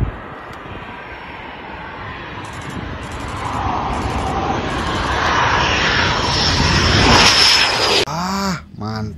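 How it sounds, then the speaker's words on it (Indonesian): A loud, steady toy airplane engine drone builds and swells for several seconds, then cuts off abruptly into faint background sounds. "Di sini ada pesawat terbang."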